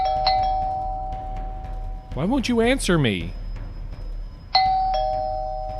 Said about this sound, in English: The doorbell kept ringing and ringing